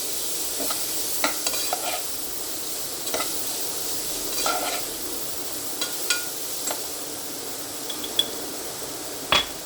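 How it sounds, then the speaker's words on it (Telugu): A spoon stirs hot and sour mixed vegetable soup in a pot after pepper powder goes in, giving scattered light scrapes and clinks against the vessel over a steady soft bubbling hiss, close and moderately quiet. "పెప్పర్ పొడి కూడా వేసి బాగా కలపాలండి ఇది"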